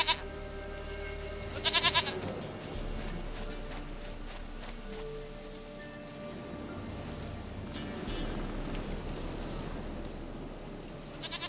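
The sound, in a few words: goat bleating in The Witcher 3 video game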